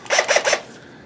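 Three quick rasping bursts of a power drill working beneath a model railway layout, close and fairly loud, each lasting a fraction of a second, followed by quiet.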